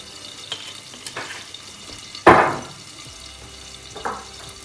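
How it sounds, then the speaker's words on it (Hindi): Olive oil goes into a pan for a lemon salad dressing, giving one sharp sizzling splash midway, with a few smaller clicks and a soft sizzle later against a quiet kitchen background. "ऑलिव ऑयल थोड़ा सा आपने"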